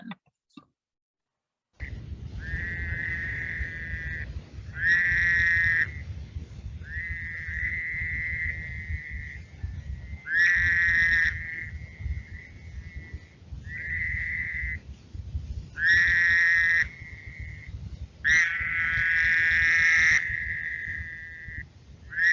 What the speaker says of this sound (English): so that's Woodhouse's toad.